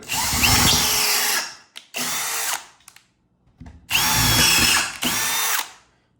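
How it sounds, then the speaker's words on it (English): A power drill pre-drilling a wall for a TV mount whines loudly in four separate bursts, each lasting about a second, with short quiet gaps between them and no talking. "We're going to go ahead and just pre-drill it."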